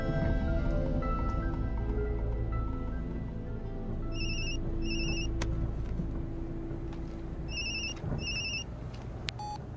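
A telephone rings in two short double-trill bursts, each a pair of bright electronic rings, heard over a low steady background hum in a scene from a gang crime film.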